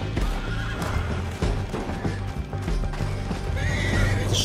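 In Red Dead Redemption 2, a horse whinnies loudly while hooves pound in a fast clip-clop gallop, layered with game ambience and other effects.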